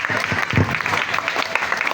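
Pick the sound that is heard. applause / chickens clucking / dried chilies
applause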